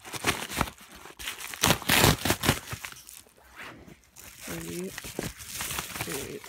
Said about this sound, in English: So I'm gonna go ahead and cut it open.